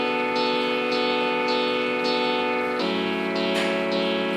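A live synthesizer chord section plays as a sustained, harmonically rich chord pulsing in steady repeated swells, shifting to a lower chord partway through, loud and continuous with no talk.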